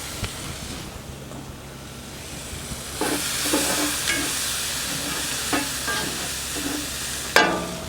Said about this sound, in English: Then you're going to throw your garlic and your peppers in.